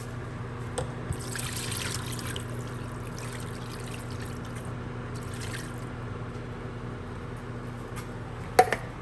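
Water trickles and dribbles into a pot of banga soup sauce during cooking, a steady close pouring over a constant low hum, with a few brief clinks near the end and no talking.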